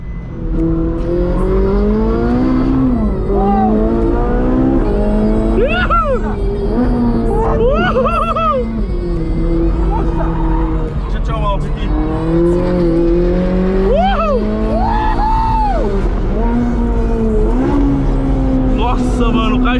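A loud, warmed-up Ferrari engine revs and accelerates repeatedly on a race track, the pitch climbing and dropping through gear changes, with excited voices over it throughout.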